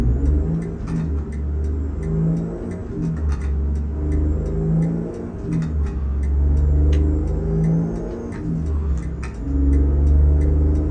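A Ruda Classic XL truck in American Truck Simulator pulls a heavy Dro Modding lowboy trailer toward Cedar City, its engine rumbling loudly and continuously as it accelerates through rising and falling revs, with no talking.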